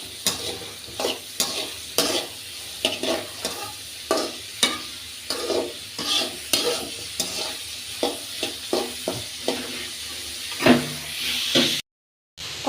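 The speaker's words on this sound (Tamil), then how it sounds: "போட்டு நல்லா கிளறி விடுங்க" Onions and spices frying in a pan for brinjal kuzhambu are stirred with a ladle, repeated scraping strokes in an irregular rhythm over a constant close sizzle.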